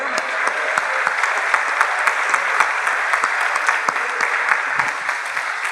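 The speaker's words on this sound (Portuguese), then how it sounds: "Podemos aplaudir ao Senhor?" Church congregation clapping together at a Sunday service, dense rhythmic applause that fills the room and holds steady and loud throughout.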